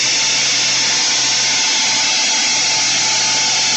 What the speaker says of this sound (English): my wife's about to use the central vac now.